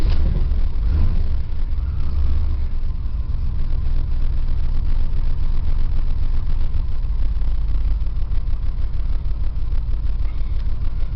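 A high-mileage GM 383 V8 four-wheel-drive dually truck turns over and settles into a loud, steady low rumbling idle, heard up close and alone.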